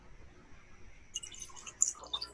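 Glencadam 10 whisky is poured into a glass, a faint short run of soft liquid trickles and drips in a quiet room.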